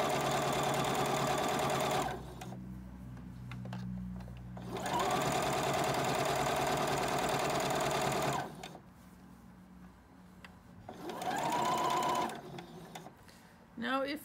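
A home sewing machine runs a regular stitch through fleece for a hat in three bursts, a steady rapid whirring that stops between runs while someone talks in the pauses.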